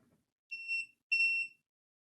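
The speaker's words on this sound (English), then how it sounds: "The red light just beeped." Two short, high electronic beeps in quick succession from a nearby device, clear and piercing against near silence.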